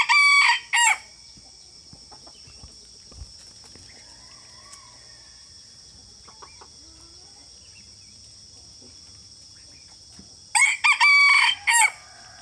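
A rooster crows loudly and close by at the start and again near the end, with faint insect chirping and quiet background in between.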